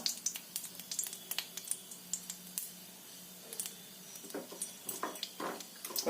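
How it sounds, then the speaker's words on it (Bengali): Black cumin seeds sizzle in hot oil in a wok, a soft, faint crackle of quick irregular pops over a low steady hiss, heard close and alone. "কড়াইতে তেল গরম করে তাতে কালো জিরে ফোড়ন দিলাম"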